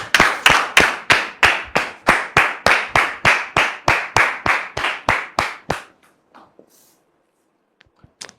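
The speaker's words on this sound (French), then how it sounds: "Merci de le recevoir sous vos applaudissements" An audience applauds to welcome a guest on a French-language talk show, a burst of loud rhythmic clapping in unison lasting several seconds before stopping abruptly, followed by a few faint scattered sounds.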